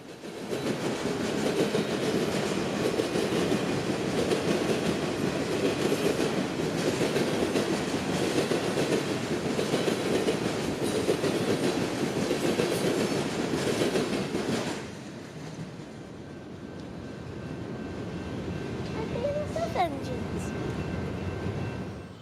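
Trains roll over a railroad diamond crossing on a hot summer morning in California, a loud sustained rumble with rhythmic wheel clatter that drops off abruptly, followed by quieter background and a faint rising tone.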